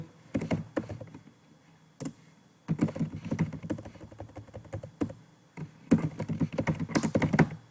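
Fingers type on a computer keyboard, entering a name into a document footer, in several uneven bursts of close tapping clicks separated by brief pauses.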